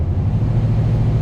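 Loud, steady blowing roar with a low rumble underneath from a Toyota Tundra's air conditioning fan at full blast in a closed cabin.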